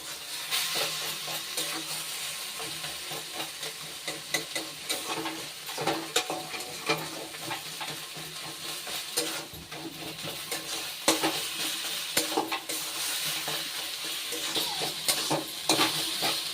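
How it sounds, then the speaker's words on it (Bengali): Note greens and eggplant frying together in a pan, a soft steady sizzle with repeated stirring scrapes of a spatula against the pan, close but fairly quiet. "দেখুন শাকটা কিন্তু ভাজা হয়ে এসছে"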